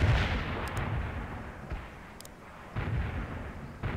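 Mobile mortar artillery in World in Conflict, heavy thumping blasts with a rumbling tail, a loud hit at the start and further booms later, alone without talk.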